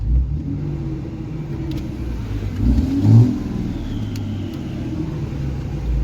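A tired diesel engine with a damaged cylinder or two drones and rumbles up near its rev limiter, holding a loud, steady roar with a brief surge and bounce in the middle, close by and without talk.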